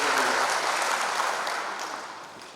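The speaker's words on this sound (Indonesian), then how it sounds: "Aplaus bagi Tuhan dan buat Ibu." Warm applause from a congregation at a 70th birthday thanksgiving church service, a full steady clapping that fades gradually toward the end.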